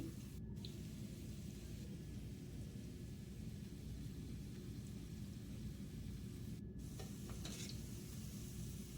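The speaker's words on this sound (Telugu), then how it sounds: "ఆయిల్లోకి అయితే వేసుకొని డీప్ ఫ్రై చేసుకోవాలి ఇలా ఒక్కొక్కటి వేసుకుంటూ ఫ్రై చేసుకోవాలి" Cabbage manchurian balls deep frying in hot oil, a dense continuous bubbling roar with a couple of faint clinks, no voices.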